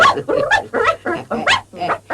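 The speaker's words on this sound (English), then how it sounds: "Stop barking." A small dog barks and yips in several quick bursts, close by, with short pauses between them.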